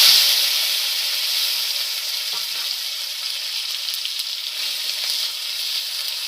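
Tomato added to hot oil with nigella seeds sizzles steadily in a pan, a loud, close, continuous hiss that eases slightly after the first moment and carries on with faint crackles and light stirring.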